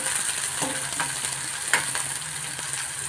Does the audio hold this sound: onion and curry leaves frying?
yes